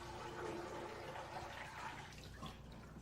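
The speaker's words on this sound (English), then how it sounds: "Dip the mop into the clean rinse." A mop dipped and swished in a bucket of clean rinse water during floor cleaning gives a steady, close wash of sloshing liquid for about three seconds, with no one speaking.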